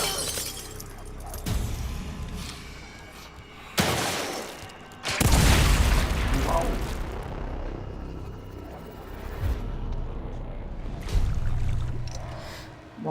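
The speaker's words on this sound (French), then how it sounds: "elle a explosé la bombe" A bomb blast in the survival horror game The Evil Within 2, a sudden loud burst followed by shattering, crumbling debris and a sustained rumbling tail, with further heavy impacts and game noise around it.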